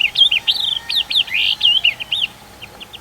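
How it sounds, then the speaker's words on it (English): Wild birds chirping outdoors in nature, a rapid series of bright, high tweets and short whistled calls, close and clear over a quiet background, tapering off toward the end. "chirping of birds"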